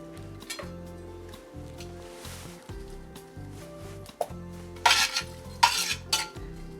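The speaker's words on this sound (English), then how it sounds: "So we want to cook these onions till they're about translucent" Onions cooking in a pot for gingered pumpkin soup give a quiet sizzle, joined toward the end by several sharp scrapes and clinks of a utensil stirring against the pot, with music playing underneath.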